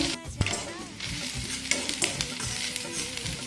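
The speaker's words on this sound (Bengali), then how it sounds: "এগুলো ভেজে নেব।" Leftover rice pieces frying in oil in a frying pan, a steady close sizzle with scraping stir strokes and spatula knocks throughout.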